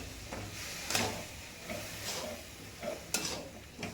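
Milk added to a roasted mixture in a hot pan for a homemade rasbhari sweet, with soft sizzling and a few sharp scraping stir strokes against the pan.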